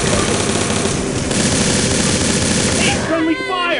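Rapid automatic gunfire rattles loudly and continuously in a tactical shooter video game, dense bursts that end abruptly near the close, followed by a brief voice.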